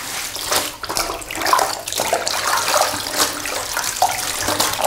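Onion-skin-dyed fabric soaked in a basin and squeezed by hand, giving a steady wet sloshing and trickling of water with repeated squelching bursts, close and continuous throughout, no voices.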